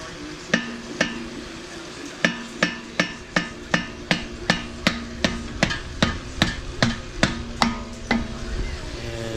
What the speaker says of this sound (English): Now I'm going to pound on the spindle here.